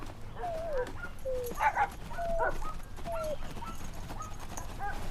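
A dog whimpers in short high whines and yips, several thin cries spread across the moment over a low ambient rumble, fairly faint and without speech.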